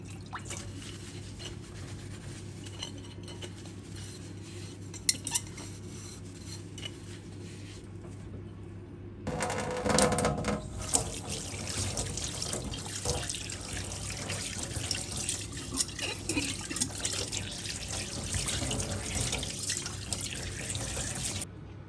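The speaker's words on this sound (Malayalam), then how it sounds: "ഇനി നമുക്ക് നമ്മുടെ ഗ്ലാസ് വേസും കൂടെ ഒന്ന് കഴുകിയെടുക്കാം." Water runs from a kitchen tap into a sink while a glass vase is rinsed, a quiet hiss that swells into a steady, fuller splashing stream partway through.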